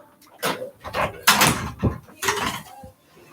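A door being pulled shut indoors at home, heard as a few close, sharp thuds and rattling knocks spread over about three seconds, with no voices.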